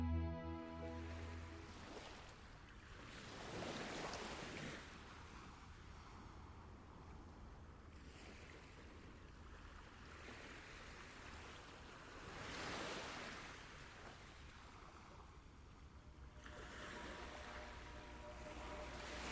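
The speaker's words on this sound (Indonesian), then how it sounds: "di mana ombak memeluk daratan dengan irama yang tak pernah lelah" Ocean waves roll onto a distant beach in slow, repeating surges that swell and recede every few seconds over a steady wash of surf and light wind, with no voices.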